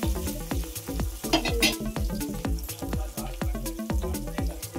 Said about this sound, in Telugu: 3 పచ్చిమిర్చిని వేసేసాను ఆయిల్లో